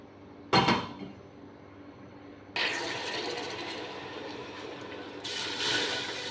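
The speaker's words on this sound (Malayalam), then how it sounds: "ഞാനിവിടെ വെള്ളം ഒഴിച്ചു കൊടുക്കുന്നുണ്ട് കേട്ടോ ഒന്നര ലിറ്റർ വെള്ളം ഞാൻ ഒഴിച്ചു കൊടുത്തിട്ടുണ്ട്" Water poured onto caramelised sugar in a pan while making caramel ada payasam, a burst of sizzling near the start, then a steady loud hissing pour that swells again toward the end.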